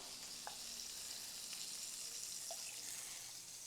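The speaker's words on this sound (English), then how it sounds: "First things, we'll melt some butter and olive oil" Butter and olive oil melting in a pan over medium heat, a faint steady hiss with a few tiny pops, alone and quiet.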